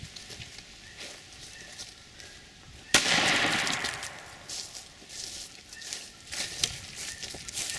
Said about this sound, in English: This is a 12 gauge, 8 shot Federal premium birdshot at 15 feet with a